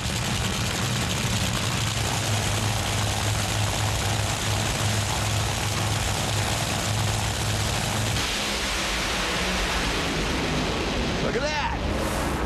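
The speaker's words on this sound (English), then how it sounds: "did you see Langdon come ripping off the line" Top fuel dragsters at a four-wide national event launching off the line, a roaring, saturated engine blast that fills everything, a steady thunder that shifts midway and then fades with a sweeping pass; a voice talks over it.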